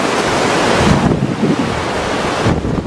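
Floodwater rushing through a swollen riverbed, a loud continuous broadband roar mixed with heavy wind buffeting against the microphone, with no talk.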